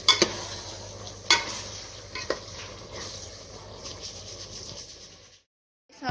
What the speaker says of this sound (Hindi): अब हम इसमें चिकन क्यूब ऐड करेंगे अच्छे से और इसको मिक्स कर देंगे